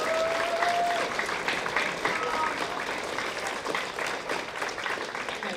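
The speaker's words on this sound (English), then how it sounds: "we're gonna give the students another opportunity to clap for their parents" Middle school students in an honors band audience clap steadily for their parents, a dense sustained applause filling the room with scattered voices mixed in.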